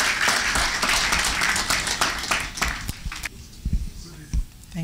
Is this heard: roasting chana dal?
no